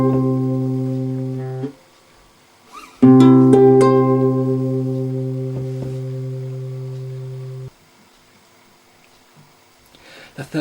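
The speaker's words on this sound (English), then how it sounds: "and strum it upwards with my thumb again," A classical guitar chord is strummed upward with the thumb, twice. Each strum rings out clearly and sustains as it slowly decays, with quiet gaps in between.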